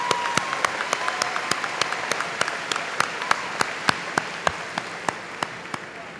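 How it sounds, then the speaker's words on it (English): Applause at a high school graduation ceremony, a soft steady crowd patter with distinct sharp claps from one nearby person landing in a regular rhythm throughout. "let us give them another round of applause"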